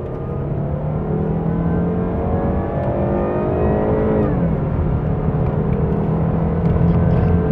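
A heavy turbocharged car accelerates hard up a highway on-ramp, its engine note climbing steadily, easing briefly as a gear changes, then pulling up again, loud and close from inside the cabin.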